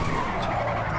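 Tires skid and screech as a race car drifts in Grand Theft Auto V, a steady loud smear of squeal over engine roar lasting about a second with no talk.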